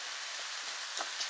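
Vegetables and potatoes sizzle in a frying pan as the base of an Irish lamb stew: a soft, steady frying hiss with a few faint crackles and pops, heard close and alone.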